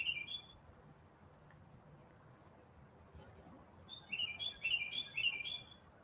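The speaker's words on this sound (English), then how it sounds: "hearing the birds chirping and all that. I just love hearing that." Birds chirp outdoors on a breezy spring day, a short burst of high tweets at the start, then quiet, then a run of repeated bright chirps near the end over soft background noise.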